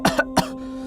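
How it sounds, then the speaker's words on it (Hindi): An elderly man coughs three times in quick, harsh bursts, two close together and a third just after, then falls quiet against a low steady hum. "दादाजी आपकी खांसी बढ़ गई है।"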